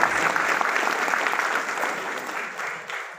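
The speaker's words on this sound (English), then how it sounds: "Give a round of applause to Mr. Jamal Masadi." A hearty round of applause from an audience at a DXN gathering in a Doha hotel, dense and steady, then thinning slightly as it fades near the end.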